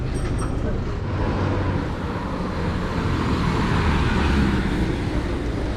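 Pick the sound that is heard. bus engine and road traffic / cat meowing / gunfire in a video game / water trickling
bus engine and road traffic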